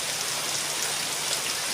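Heavy rain pours down steadily during Cyclone Remal, a dense, loud, unbroken hiss of water hitting surfaces, with wind adding to the roar throughout.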